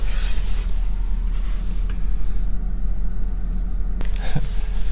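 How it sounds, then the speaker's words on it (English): A big snowplow truck stuck in snow, its engine revving in a steady, heavy low rumble that runs throughout, with a sharp click near the end. "There's another snowplow company right next to me, and they're stuck in their big bad truck."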